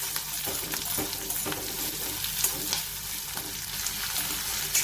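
Chopped onion sautés in a pan with a dense, continuous frying crackle and occasional stirring scrapes, close and steady with no talking.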